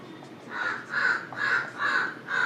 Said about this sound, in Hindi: कौवा बोल रहा है, शायद आपको आवाज़ आ रही होगी।